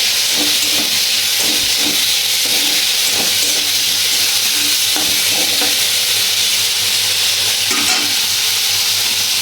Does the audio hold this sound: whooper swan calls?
no